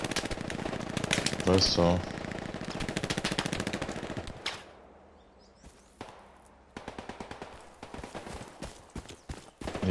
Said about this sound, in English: That MG42 is getting a little nasty.